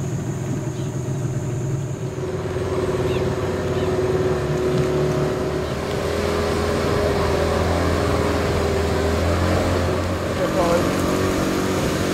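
A cruise boat engine on the Panama Canal drones steadily throughout, a constant low hum with a faint higher whine on top, no other clear sounds.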